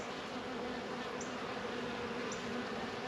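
A dense, steady drone of many honeybees buzzing together at close range at a hive with a drone-laying queen, continuous and unbroken, with a few slightly sharper buzzes passing by.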